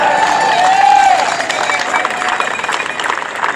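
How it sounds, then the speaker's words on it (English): A rally crowd protesting lockdowns in San Diego claps and cheers, a broad steady roar of hands and voices while a speaker's voice carries over it at first. "Can I get a round of applause for all of them?"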